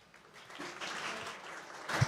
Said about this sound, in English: Huge applause there for Jason